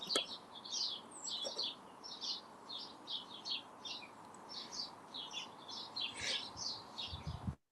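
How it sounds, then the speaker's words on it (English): Small birds chirp and trill in quick repeated phrases, moderately near over a quiet hiss of background ambience. "No, all I can hear is birds singing."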